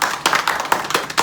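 Several sharp, loud hand claps land close by in a loose, uneven rhythm, each a quick percussive burst, with no talking over them.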